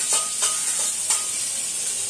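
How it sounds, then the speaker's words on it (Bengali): Pre-fried vegetables drop into spices frying in a pan for dalma, giving a bright hissing sizzle with several quick crackling bursts, close and continuous. "এবার আমি এর মধ্যে সমস্ত সবজি দিয়ে দিলাম, ভেজে রাখা সবজি দিয়ে দিলাম।"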